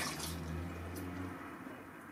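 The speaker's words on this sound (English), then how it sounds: "You then have to wash the clay out" Water runs steadily over a clay-laden sponge as porcelain slip is rinsed out of it, a continuous close splashing wash with slight shifts in flow and no voices.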